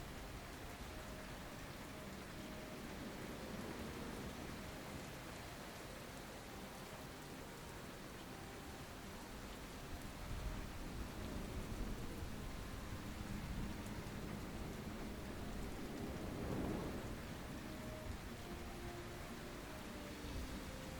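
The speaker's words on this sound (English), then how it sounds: "it's raining really hard" Heavy rain in a video game, a dense steady hiss of downpour filling the scene, with a faint low rumble swelling briefly near the end.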